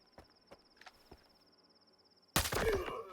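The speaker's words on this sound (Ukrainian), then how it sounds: "Один постріл, звичайні патрони." Quiet footsteps and a faint steady whine, then a sudden loud burst of rapid gunfire from a GP37 rifle in the video game S.T.A.L.K.E.R. that continues to the end.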